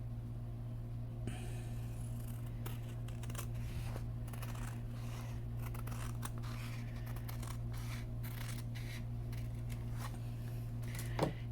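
Scissors snip through scored card paper in a card-making craft, giving a series of quiet, crisp cuts over a steady low electrical hum.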